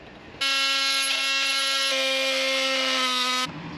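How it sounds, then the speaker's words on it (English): An oscillating multi-tool buzzes loudly as it cuts into a steering bearing on a Honda ATC 70, a sharp, steady high-pitched whine lasting about three seconds that stops abruptly. "So we're going to use the oscillating tool. I'm just going to cut a small diagonal line."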